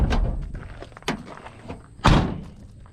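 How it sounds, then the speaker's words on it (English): Heavy metal thunks and a clunk as the hood of an 82 long bed Square Body truck is opened, a few distinct knocks ending in a louder bang, no talking. "I gotta open the hood."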